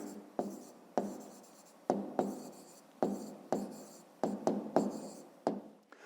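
A pen writing numbers on paper, close and alone, in short quick strokes separated by brief pauses, with repeated sharp taps and scratchy rasps over about six seconds.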